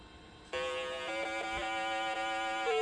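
Prince of Persia running on an Amstrad PC1512 with mono CGA, a loud sustained tonal beeping melody from the computer that starts abruptly and holds steady notes.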